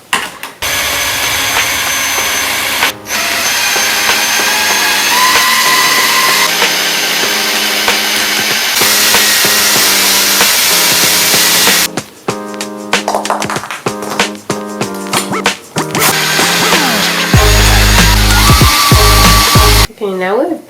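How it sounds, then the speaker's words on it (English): A power drill bores out pop rivets on a stroller frame, its high motor whine running in long sustained bursts with short stops and restarts, loud and close. "now we've drilled them out"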